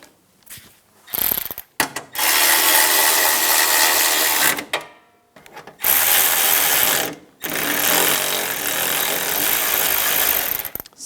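Radiator bracket bolts on a 2004-2009 Toyota Prius are driven down with a power tool in several loud, sustained bursts of whirring and ratcheting, separated by short silent gaps.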